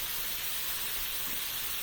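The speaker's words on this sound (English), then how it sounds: "Do you hear that sizzle? I love the sound of a sizzle." Food sizzles in a hot pan with a steady, close, dense hiss that continues unbroken, with no voices.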